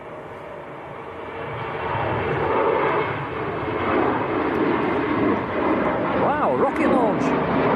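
An Embraer 190 airliner taking off from Manchester Airport on a steep climb-out, a steady, loud jet roar that fills the whole stretch, with people talking over it near the end.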